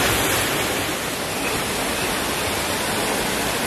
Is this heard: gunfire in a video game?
no